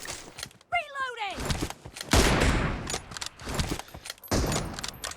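Sniper rifle fire in the mobile game PUBG Mobile during a team deathmatch, with sharp shots and reload clicks scattered among continuous talking over the game audio.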